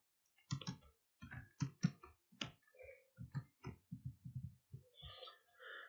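A computer mouse clicks repeatedly while someone works in Inpage Urdu typing software. The clicks come in an uneven series of short, crisp taps, close and otherwise quiet.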